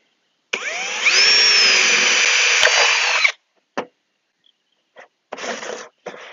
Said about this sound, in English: Use a sharp drill bit.